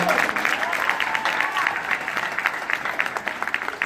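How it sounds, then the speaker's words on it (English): Convention crowd at an anime convention closing ceremony applauding and cheering, a dense, steady wash of clapping from a large audience heard up close throughout. "So give yourselves a huge round of applause."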